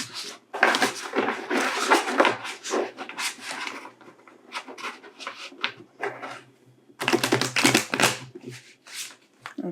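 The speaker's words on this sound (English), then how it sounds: "So I'm going to shuffle them." Tarot cards being shuffled by hand close up, in bursts of riffling and rubbing separated by brief pauses, with a louder flurry near the end.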